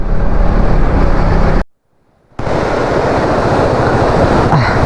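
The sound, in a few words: water flowing at a small river crossing on a forest road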